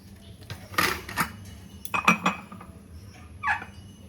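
Fenugreek and fennel seed water poured through a strainer in a home kitchen, with a few light clinks of metal utensils and a cup against dishes, short scattered taps and scrapes, close and moderately quiet, with no talking.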